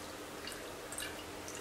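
A few small drops of whey fall from warm clarified butter, faint soft drips over a quiet background, with no talking.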